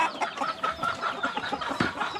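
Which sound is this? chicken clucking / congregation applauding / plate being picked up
chicken clucking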